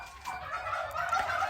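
Turkeys on a turkey farm gobble steadily as a flock, their overlapping calls forming a continuous, moderately loud chorus with no pauses.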